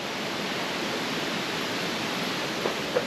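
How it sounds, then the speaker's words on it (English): Fast, powerful rapids rushing down a hidden waterfall in tropical Jamaica, heard as a steady, close, broadband roar of water that stays even from start to finish. "see how fast and powerful the rapids are"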